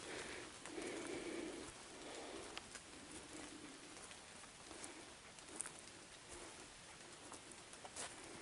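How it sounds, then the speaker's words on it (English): Steady rain-like patter surrounds a hiking trail on the Trenton Greenbelt Blue Trail on a mostly clear day, a soft continuous hiss with scattered faint taps and occasional bird calls in the background. "Why does it sound like it's raining?"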